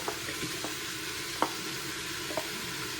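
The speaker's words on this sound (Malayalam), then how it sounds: "പിന്നെ അതിനകത്തേക്ക് കോളിഫ്ലവർ ഇട്ട് കൊടുക്കാം" Cauliflower, soybeans, salt, turmeric, chilli powder and pepper fry in a pan with a steady close sizzle, punctuated by a few sharp clicks and taps of stirring.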